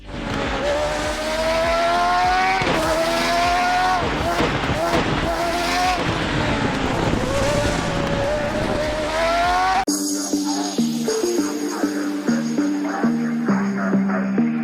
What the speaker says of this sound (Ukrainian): Реальні гонщики використовують звук двигуна і трансмісії як важливе джерело інформації про поведінку машини